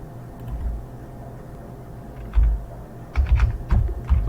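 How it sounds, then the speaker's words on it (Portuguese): Keys on a computer keyboard are tapped in short, soft clusters of clicks, quiet at first and then a quicker run of strokes near the end, with no talking. "Simplesmente digitando o que está lá para cá."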